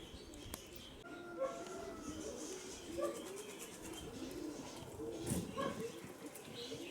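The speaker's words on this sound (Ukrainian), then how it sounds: "Голубів, хлопці. Голубів тьма." Soft pigeon coos repeat among a flock in a faint, busy background, with low voices talking nearby.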